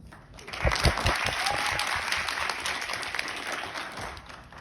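An audience claps steadily for a few seconds, a dense wash of applause that swells early and then slowly fades.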